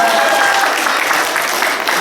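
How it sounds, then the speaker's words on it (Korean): Applause from a congregation during a Sunday church service, a brief burst of many hands clapping, fairly loud and close, with voices mixed in underneath. "박수 해주세요."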